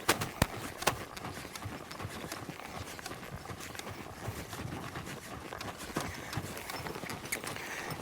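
Horse hooves clip-clopping during riding practice, a steady run of sharp hoofbeats over a broad, noisy outdoor background, moderately close and fairly quiet with no talking.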